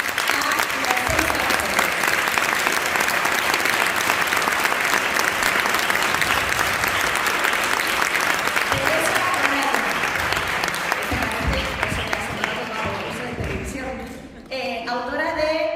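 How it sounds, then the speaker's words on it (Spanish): A large audience at a book presentation at the Ateneo de Madrid claps in loud, sustained applause to welcome six authors onto the stage; it tapers near the end as a voice resumes. "os pido una cálida acogida con un súper aplauso"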